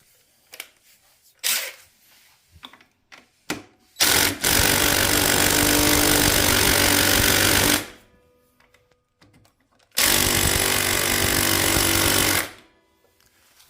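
An old DeWalt impact tool hammers at T45 kickstand bolts on a BMW F800-GS without loosening them: two long, loud, close rattling bursts of several seconds, with scattered clicks and clunks of the tool being repositioned.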